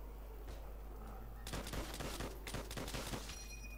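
In Call of Duty: World at War's custom zombies mode, rapid automatic gunfire erupts in a dense burst of overlapping shots after a quieter lead-in, with a player talking beneath it.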